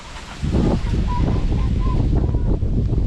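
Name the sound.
duck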